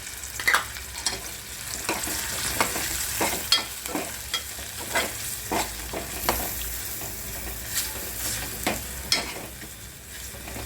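Chicken liver masala with kasuri methi and garam masala roasts in a pan, giving a continuous sizzle punctuated by frequent sharp clicks and scrapes of a spoon stirring, close and moderately loud, with no talking.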